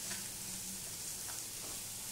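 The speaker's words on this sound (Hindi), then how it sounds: "और सब्जियों को हम अच्छे से पकाएंगे" Vegetables with chilli flakes sizzle in a pan while cooking for white sauce macaroni, a loud, dense, unbroken frying hiss close by, with no talk.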